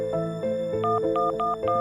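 A rapid series of electronic phone keypad beeps while typing a message, paired tones pressed in quick rhythm, close and clear with no voices.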